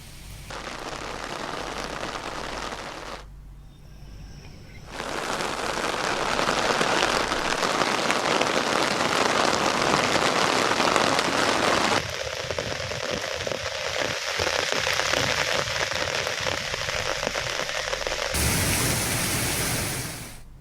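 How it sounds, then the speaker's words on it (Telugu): A loud, continuous roar of the flooding Godavari river rushing in Alluri district fills the scene, shifting abruptly in tone between sections, with no talking. "వంకలు పొంగి ప్రవహిస్తున్నాయి."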